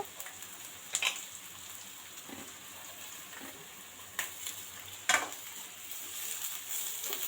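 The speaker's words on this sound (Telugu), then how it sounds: "ఉల్లిపాయలు పచ్చిమిర్చి కూడా వేసుకోవాలి ఇవి కూడా బాగా వేగాలండి" Onions and green chillies frying in a pan for egg fried rice, a soft continuous sizzle with occasional sharp scrapes and clicks of a spatula, no voices.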